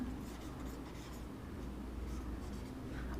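Marker or chalk scratches across a board during a soil mechanics lecture, a faint, continuous scraping over steady room noise.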